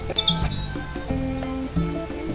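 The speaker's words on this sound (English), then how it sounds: "He toots back at her." A video game character toots a short, high whistled reply that comes as a brief chirpy burst near the start, then gives way to soft tonal game music.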